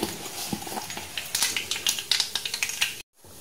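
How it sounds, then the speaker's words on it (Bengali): Panch phoron and a torn dry red chili fry in hot mustard oil, crackling and popping in quick bursts with clinks of a utensil against the pan, ending abruptly in silence. "তেলটা গরম হলে আমি দেবো 5 ফোড়ন আর একটা শুকনো লঙ্কা"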